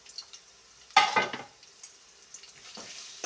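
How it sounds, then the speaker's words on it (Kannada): Onions deep-frying in a pan for vegetable pulao give a steady crackling sizzle, broken by a louder burst of stirring clatter near one second, then settling back to a moderate frying hiss with occasional scrapes. "ಈರುಳ್ಳಿ ಕರೆಕ್ಟಾಗಿ ಡೀಪಾಗಿ ಫ್ರೈ ಆಗಬೇಕು."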